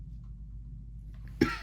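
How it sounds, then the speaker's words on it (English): A single short cough near the end of a quiet stretch of low steady hum, sharp and close, from a woman with asthma. "excuse my cough, y'all, I have asthma"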